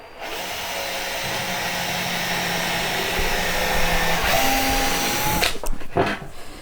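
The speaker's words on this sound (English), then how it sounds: "we're just going to put 3 more screws into the base here" A power driver sends screws into a wooden base during a home build, a continuous close whirring motor that holds steady for several seconds, then stops with a few short clicks and knocks.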